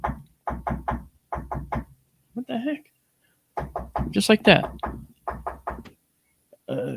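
Sharp knocks on a hard surface in quick sets of three, with two clear triplets near the start before someone talks, demonstrating a pattern heard coming from a roof at night.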